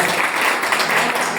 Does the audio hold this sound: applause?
yes